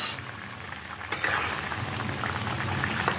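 Pumpkin and small fish curry bubbles in a covered pot, a steady close hiss and burble of simmering liquid with a brief clatter as the lid lifts partway through.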